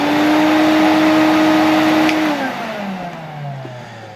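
An Electrolux Z325 canister vacuum cleaner from about 1977 runs with a loud, steady motor whine. Partway through, the pitch drops as the motor winds down and fades.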